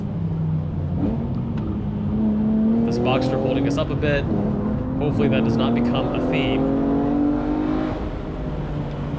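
A BMW M3 E46's straight-six engine, revving toward 8,000 rpm, climbs smoothly through the gears on a race track, loud and close, with a rising whine behind someone talking throughout.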